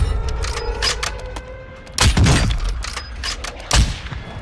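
Bursts of gunfire from a first-person shooter video game, with two loud, dense volleys about two seconds apart over a busy background of game effects.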